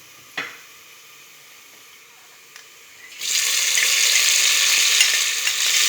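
Browned onion frying in a pan as tomato, garlic and ginger paste go in, a brief clatter then a loud, steady sizzle that swells and holds to the end, with no talking.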